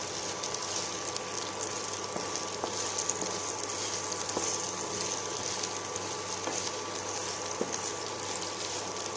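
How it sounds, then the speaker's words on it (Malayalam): Onions sauté in a pan for spicy egg noodles, giving a soft, steady sizzle with sparse light taps of a spatula. "ഇതൊന്ന് വഴറ്റിയെടുക്കാം."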